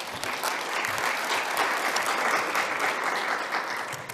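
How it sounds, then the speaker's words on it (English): A conference audience at an education event breaks into dense, continuous applause, loud and even throughout the few seconds with no talk over it. "Give me a round of applause"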